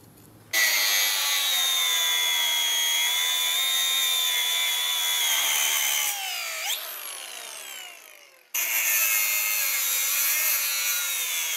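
Power cutting tool slicing through old rusted parts on a VW Beetle axle beam during restoration, a loud continuous high-pitched whine and grinding that dips briefly, then cuts back in strongly near the end.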